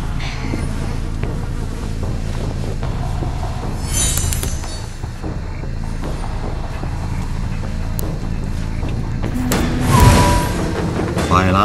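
Video game train riding along rails, a continuous rumbling roll with rattling and brief metallic squeals, fairly loud and steady throughout.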